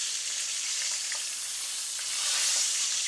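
Bangamary fish fries in a pan for a classic Jamaican dinner, with a steady close sizzle and scattered small pops throughout.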